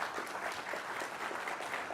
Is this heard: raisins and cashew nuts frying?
no